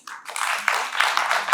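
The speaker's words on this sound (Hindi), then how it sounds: "जोरदार तालियां हो जाए।" Audience applause at a live Indian classical music tribute concert, a dense wash of clapping that swells in quickly and holds steady for a couple of seconds.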